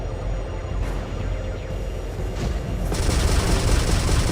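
Cannons fire in rapid bursts during a space combat video game, a dense continuous barrage of booming shots that grows louder and brighter near the end, with no speech.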